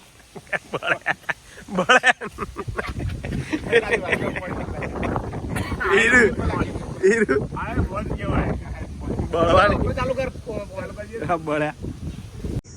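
Strong gusty wind buffets the microphone, roaring and rumbling throughout while someone talks over it.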